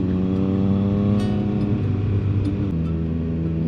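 A motorcycle cruising steadily along British countryside A roads on a trip toward Scotland, the engine a continuous loud mid-pitched drone with shifting harmonic tones and wind rush, no speech.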